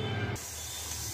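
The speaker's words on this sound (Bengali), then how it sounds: "সিটি পড়ছে" A Prestige pressure cooker on high gas lets out a whistle that gives way to a loud, steady hiss of escaping steam, close and sustained.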